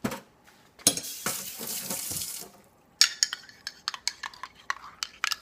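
Fresh ginger juice poured into parsley juice in a home kitchen, a close splashing pour for about two seconds, then a run of sharp clinks and taps of glass and utensils.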